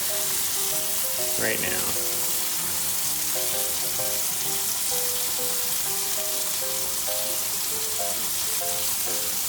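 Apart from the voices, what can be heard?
fries sizzling in frying oil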